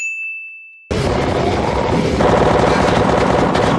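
After a ringing ding fades, dense automatic gunfire from The Walking Dead erupts loud and close, a rapid unbroken rattle of shots that continues to the end.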